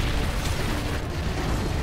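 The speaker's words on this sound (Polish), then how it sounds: "Tam klejmory moje wybuchają ostro." Claymore mines detonating in Call of Duty: Modern Warfare 3 survival mode, a dense rumbling burst of muffled explosions and booms blending into a continuous low roar of in-game battle noise.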